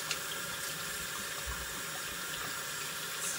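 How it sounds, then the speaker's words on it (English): Tap water runs steadily over a hand being rinsed of activated charcoal, a close, continuous splashing hiss at sink level with no voice over it. "I've got charcoal on my hand, which I'm going to rinse off"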